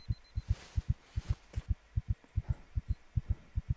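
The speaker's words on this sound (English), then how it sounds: "Can you feel my heartbeats?" A heartbeat sound effect of paired low thumps repeats at a steady, quick pace, close and prominent over a faint hum, with no speech.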